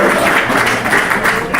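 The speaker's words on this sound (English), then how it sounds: "So one round of applause for Buzz for providing me" Brief burst of dense, steady applause from an audience at a business conference talk on chatbots, loud and close, with no speech over it.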